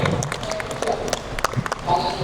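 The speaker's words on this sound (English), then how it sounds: "round of applause to the panel" Audience applause for a panel at a book fair talk in Penang: a scattered, moderately loud burst of hand claps from a crowd, with a few sharper individual claps standing out.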